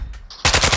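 Automatic gunfire from a mounted weapon in Call of Duty, a loud rapid burst of shots starting abruptly after a short quieter stretch and running to the end.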